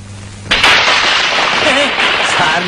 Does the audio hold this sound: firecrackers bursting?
yes